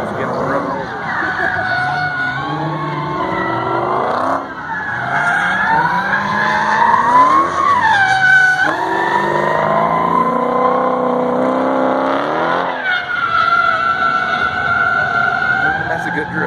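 A car drifting at the Roadkill Nights 2016 event at M1 Concourse, with loud sustained tire squeal and a high revving engine bouncing off the rev limiter, rising and falling in long sweeps, close and continuous.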